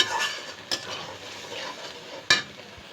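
Prawn legs are stir-fried in a spice masala, giving a low, soft sizzle broken by two sharp clinks of a utensil against the pan.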